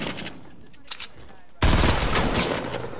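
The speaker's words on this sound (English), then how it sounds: "I got shotgunned and thought I was all over." Fortnite shotgun fire: a sudden loud blast of game gunfire about halfway through, followed by sustained dense noise, after quieter in-game ambience with faint scattered sounds.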